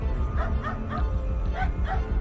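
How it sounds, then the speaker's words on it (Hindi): Several dogs bark and yip in a quick irregular run at night as a strange creature walks along a road, caught on CCTV with a steady hum of background noise beneath. "जब ये क्रिएचर रोड पर चलकर आ रहा था तब कुत्ते इस पर भौंक रहे थे"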